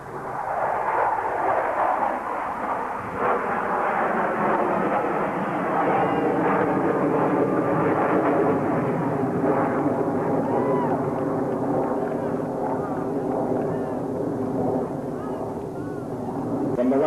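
Blue Angels jets flying the vertical break at the 1987 Carswell Air Force Base airshow make a loud, sustained broadband roar. It swells steadily and stays heavy throughout, with crowd and announcer sound blended underneath.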